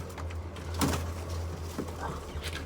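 Pigeons coo softly in a loft, faint low murmuring calls against a steady background hum, with a few brief clatters.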